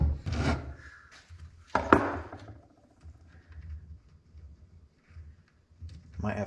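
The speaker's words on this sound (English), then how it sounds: "So light on the file, and just take your time." Hand file rasping lightly over the peened thread of a bolt, a few scraping strokes with pauses between them, close and fairly quiet, with someone talking softly between strokes.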